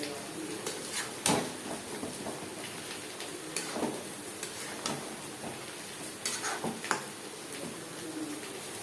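Tomato paste going into a pan of cooking chicken and potato curry, giving a gentle sizzle with scattered clicks and scrapes of stirring, moderately quiet and close.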